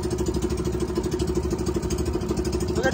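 Boat engine left unused for about a month, running with an even, rapid idling clatter and throb, close and loud, with no talk.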